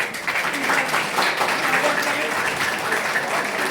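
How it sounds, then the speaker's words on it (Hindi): Loud, dense audience applause at a national awards ceremony at a university in Roorkee, India, continuous and even throughout, with faint voices beneath. "मैं सभी से कहूंगा एक बार जोरदार तालियां बजा।"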